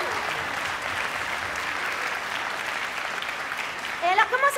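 Audience applause at a children's theatre performance, a dense steady wash of clapping throughout, with a voice breaking in briefly near the end.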